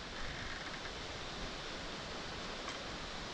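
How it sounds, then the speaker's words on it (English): Strong wind roars steadily outdoors in the Canadian wilderness, a dense, rushing noise buffeting the microphone with no pauses. "it's still super windy out"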